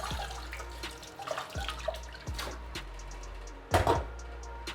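Tap water runs into a cooking pot being rinsed in a kitchen, with soft splashing broken by several sharp metallic knocks and clinks, one louder clatter near the end.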